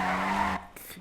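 A car in GTA Online skids under the handbrake, a loud tire screech for about half a second that cuts off abruptly into quieter engine noise.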